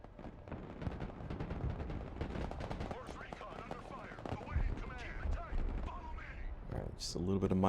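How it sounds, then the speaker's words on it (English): Machine gun fire from guardsmen in the real-time strategy game Broken Arrow, rapid dense bursts crackling continuously under ongoing commentary, with a sharper burst near the end. "These guardsmen of Strelki have got machine guns now, so they're a legitimate threat."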